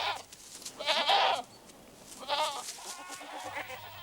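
Goats bleat in Madagascar, where domestic herds roam loose in the forest: several wavering, nasal calls at moderate distance, two strong bursts separated by quieter bleats, with no voices.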